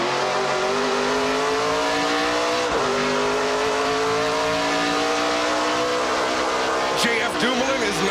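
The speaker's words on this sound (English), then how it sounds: "You let the engine wind up, get all the power you can out of it" A NASCAR Pinty's Series race car at the Can-Am Le 50 Tours race winds its engine up in long rising whines, dropping briefly at gear changes, loud and continuous beneath a commentator's talk.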